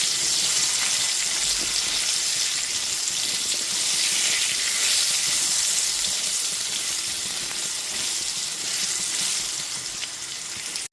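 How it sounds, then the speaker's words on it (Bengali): Potato pieces frying in oil with salt and turmeric, a dense, steady hiss of sizzling close up, loud and continuous before fading slightly at the end. "এইবার লবণ আর হলুদ গুঁড়োটা দিয়ে খুব ভালো মতো মিশিয়ে আলুটাকে লাল লাল করে ভেজে নেব"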